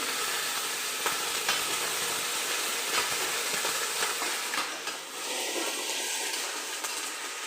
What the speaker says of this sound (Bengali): সবজিগুলো একটু ভেজে নিলাম